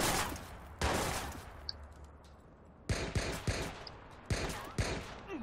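Shotgun blasts in the video game Watch Dogs: heavy booming shots, one early and then a cluster of several loud reports in quick succession with decaying tails.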